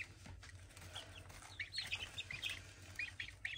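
Barred Rock chicks chirp and peep in a run of small, high tweets that grow busier midway, with soft flutters and a low background rumble underneath.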